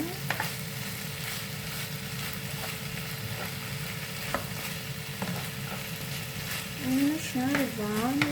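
Ground pork stirred as it fries in a pan, a steady soft sizzle with scraping stir strokes throughout, close and moderately loud, no talking.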